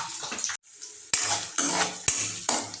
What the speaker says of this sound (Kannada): ಇವಾಗ ಇದಕ್ಕೆ ನಾನು ಈರುಳ್ಳಿ, ಶುಂಠಿ ಮತ್ತು ಬೆಳ್ಳುಳ್ಳಿ ಹೆಚ್ಚಿಟ್ಕೊಂಡಿದ್ದೆಲ್ಲ ಅದನ್ನು ಹಾಕ್ತೀನಿ. ಹಾಕಿ ಫ್ರೈ ಮಾಡ್ತೀನಿ.